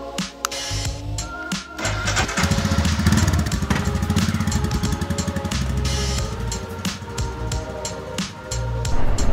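Royal Enfield Himalayan motorcycle engine rumbling steadily while riding, a loud low throb with wind noise, close and continuous throughout with no speech.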